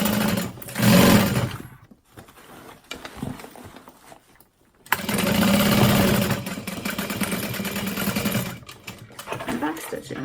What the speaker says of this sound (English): I'm gonna back stitch over that